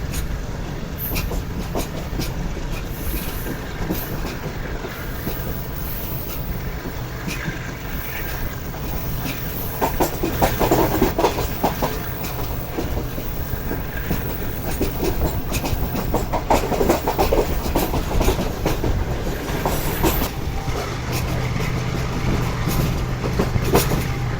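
The Pak Business Express passenger train runs along the rails on a curve between Karachi and Lahore, giving a continuous rumble with clickety-clack wheel beats heard from inside the carriage.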